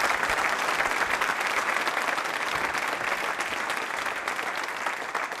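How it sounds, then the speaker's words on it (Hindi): An audience at a university quiz show claps steadily, a dense, even wash of applause that holds at full strength for several seconds with no one speaking. "तालियां बजाइए रवि जी के लिए"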